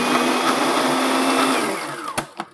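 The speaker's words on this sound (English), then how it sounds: "the food processor kind of blends everything together, sort of gets all the juices from the herbs all mixed in with the butter" A food processor blends herbs into butter with a steady, close motor whir that winds down near the end, followed by a couple of sharp clicks.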